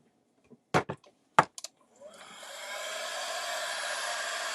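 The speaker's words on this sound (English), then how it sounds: "Let me grab my heat gun." A heat gun starts after a few handling clicks and knocks, then blows hot air over crackle paint with a steady, rushing hiss that holds at a constant level.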